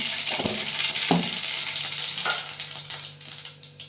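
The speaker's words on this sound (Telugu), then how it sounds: "ఆయిల్ బాగా హీట్ ఎక్కింది ఆవాలు వేస్తున్నాను" Mustard seeds sizzling and popping in hot oil for a country chicken curry, close crackling with a few distinct pops over a steady hiss, fading toward the end.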